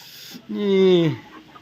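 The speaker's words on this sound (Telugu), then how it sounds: "ఎట్లా తింటున్నాయి కోళ్ళు" A single drawn-out cluck from a chicken eating fruit and vegetables, fairly close and clear, with quiet background noise around it.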